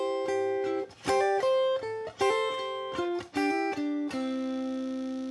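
Ukulele picks out a rock-blues lick with quick hammer-ons over two measures, a bright, clean run of plucked notes that ends on a ringing, sustained chord.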